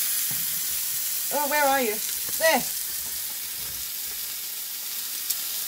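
Chicken wings fry in a pan with a steady broadband sizzle throughout, while a voice briefly calls out over the frying.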